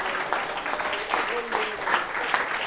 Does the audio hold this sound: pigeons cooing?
no